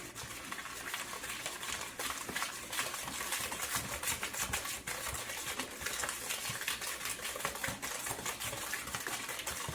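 Cherry coconut bar batter of flour and other ingredients being stirred by hand in a bowl, a steady, dense run of close scraping and tapping clatter that continues without pause.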